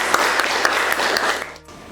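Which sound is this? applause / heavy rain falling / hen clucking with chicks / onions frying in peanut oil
applause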